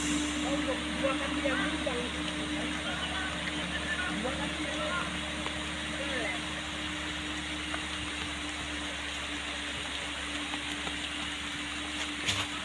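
Steady rain falls around a truck in Aceh, a constant broadband hiss with a low engine hum beneath it and faint voices now and then.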